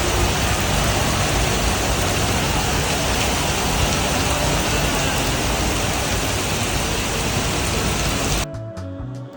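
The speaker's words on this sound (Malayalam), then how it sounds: "മലേഷ്യയിൽ വർഷം മുഴുവനും വല്ലപ്പോഴുമൊക്കെ ഇങ്ങനെ മഴ പെയ്തുകൊണ്ടിരിക്കും" Rain falls steadily in Malaysia, a dense, even roar of drops on surfaces heard close and alone for about eight seconds before it cuts away abruptly near the end.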